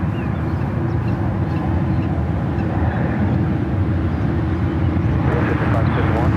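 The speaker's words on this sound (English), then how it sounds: "That's the 777 heading out to the 28." A United Airlines Boeing 777 takes off from SFO, its engines a broad, steady, rumbling roar heard from a distance. Someone speaks over the noise.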